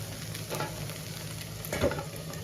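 Poha and rava uttapam roasting in a little oil on a pan over low heat; a faint, soft sizzle with occasional light scraping or stirring, close by and quiet.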